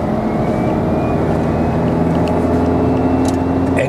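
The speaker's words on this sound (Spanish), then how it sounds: "Se oye un poco el ruido del motor" Steady car engine hum and tyre roar fill the cabin while driving on the A-14 motorway near Lleida airport, a constant drone with faint rattles and no talk.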